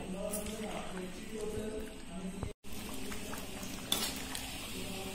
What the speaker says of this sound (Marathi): तर आपल्या ग्रेव्हीला एक उकळी आलेली आहे